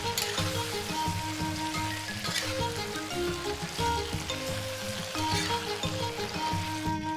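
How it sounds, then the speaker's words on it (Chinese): Duck feet are stir-fried in a wok with oyster sauce, cooking wine and soy sauce, giving a constant moderate sizzle with soft, irregular stirring and scraping underneath. "翻炒均匀。"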